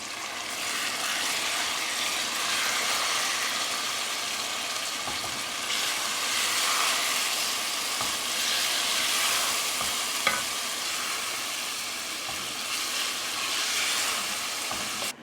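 Minced lamb and onions sizzle steadily in a pan for keema aloo curry, a continuous close frying hiss with occasional soft scrapes and clinks as the mixture is stirred, no voices present.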